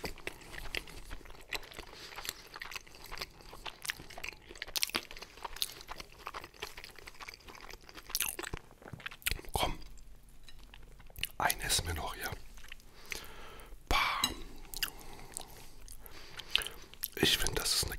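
Close, quiet eating of potato pancakes (Kartoffelpuffer) for ASMR, with soft chewing, biting and occasional crunches spread unevenly through the stretch, plus a few brief murmured sounds.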